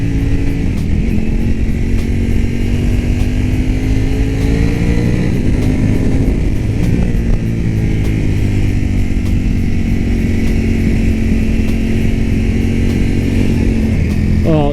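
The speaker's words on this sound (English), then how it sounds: "Oh, this bike sounds so good." Ducati Panigale V4S superbike engine roaring steadily while riding, a strong continuous drone with smooth pitch rises and dips as the rider rolls the throttle, loud and close throughout with no talking.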